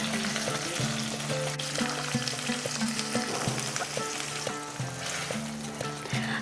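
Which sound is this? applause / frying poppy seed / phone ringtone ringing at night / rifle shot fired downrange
frying poppy seed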